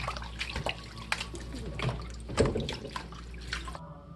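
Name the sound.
shaking and rinsing shepherd's purse greens in water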